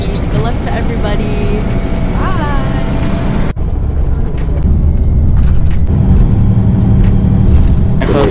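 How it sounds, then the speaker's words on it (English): Steady low rumble of a bus engine and road noise from inside a moving bus, loud and continuous, with voices talking over it. "we're on the bus right now and we're on our way to the meet"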